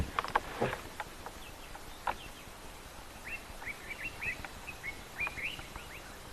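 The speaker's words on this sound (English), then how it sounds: "Lovely listening to the birds wake up." Birds waking at dawn on a live safari broadcast, several chirps and short whistled calls scattered across the clip, faint to moderate in a quiet outdoor setting.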